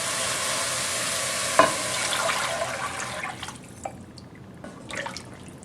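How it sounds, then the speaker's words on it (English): Lobster stock is poured into a hot pan for lobster bisque, a brief hiss and splash fading into soft sizzling and bubbling, close and fairly quiet with no talking. "now I'm adding our lobster stock"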